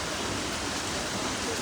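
Daytime monsoon rain falls steadily, giving a dense, even wash of noise with no distinct drops, close and moderately loud, with no voices.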